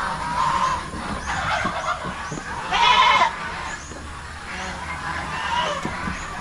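Goats kept on a small farm in the Philippines bleat several times, with one louder nearby call in the middle and fainter calls around it, over a background of faint outdoor noise.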